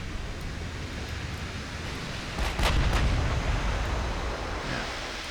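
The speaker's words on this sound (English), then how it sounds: "This poor old British battleship, when it gets hit, ow! Oh, it really gets hit." In the naval video game Ultimate Admiral Dreadnoughts, a British battleship takes shellfire: a loud rumbling wash of noise swells into heavy booming impacts midway, then settles back into a dull roar.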